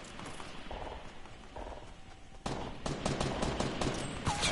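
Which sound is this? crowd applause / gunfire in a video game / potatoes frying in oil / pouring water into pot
gunfire in a video game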